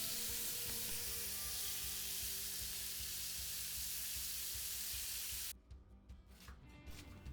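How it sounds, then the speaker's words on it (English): Pork tenderloin sears in a pan over high heat, a loud continuous sizzle and frying hiss that cuts off abruptly near the end, leaving quieter crackles. "You want to sear the meat on both sides."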